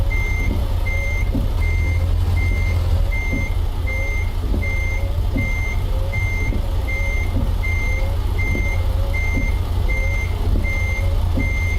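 A truck manoeuvres in reverse, its reversing alarm beeping steadily and evenly throughout, close and loud over a constant low diesel engine rumble.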